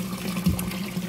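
Filtered water flows back into a crayfish pond with a soft, steady splash and trickle, briefly swelling once, fairly quiet.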